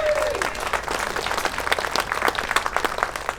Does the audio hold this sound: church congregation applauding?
yes